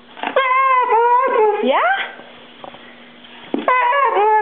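Pet dogs whimpering and whining close by in long, wavering high-pitched cries, one sliding upward, with a short pause and faint sounds before the whining resumes; a person briefly speaks.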